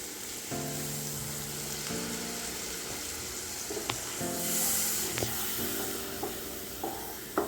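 A mango pickle mix of pickle masala and vinegar boils in a pan, giving a steady bubbling sizzle with occasional light clicks of stirring.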